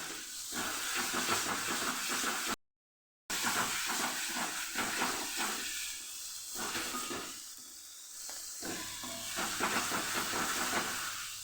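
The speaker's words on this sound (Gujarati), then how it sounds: "મસાલો મિક્સ કરીને સરસ સાતડી લેવાનું" Dhaba-style spiced sweetcorn masala gravy with tomato puree, onion, garlic and oil sizzles in a pan as it is sautéed, a steady close hiss with a brief silent break.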